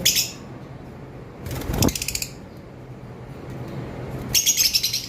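Violet opaline lovebirds, including white-headed ones, chirp on a bird farm in three bright, rapid bursts of high twittering: at the start, in the middle, and a longer chattering flurry at the end, with quieter background in between.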